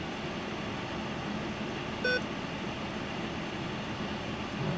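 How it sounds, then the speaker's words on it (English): A computer gives a single short electronic beep inside a storm-chasing setup, rising briefly above a steady broadband rumble of background noise. "Why the computer's beeping?"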